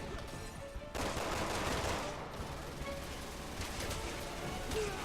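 Rapid automatic gunfire from camera turrets in Resident Evil 6, a dense continuous rattle of shots at moderate distance, with game ambience and no voices.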